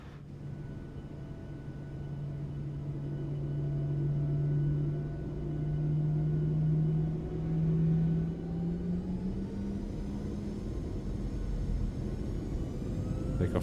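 Boeing 737 engines spooling up for takeoff in the flight simulator MSFS 2024, a steady rising whine and drone with climbing tones over a low rumble, building smoothly over several seconds without talk.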